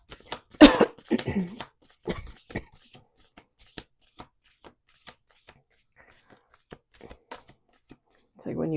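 A single sharp cough near the start, followed by quieter shuffling and tapping sounds, with brief talking later on.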